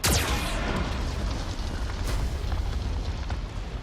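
Geth cannon firing in the Mass Effect 2 Overlord DLC, a loud sustained booming blast with a sharp onset and rumbling roar that stays heavy throughout, with a brief crackling burst midway.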